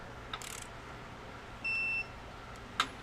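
A DeWalt 12V Xtreme cordless ratchet setup with a digital torque wrench reaching its set torque: one steady, clear electronic beep lasting about half a second, faint and close, with small clicks before and after.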